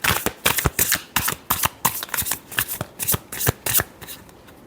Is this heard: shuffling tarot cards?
yes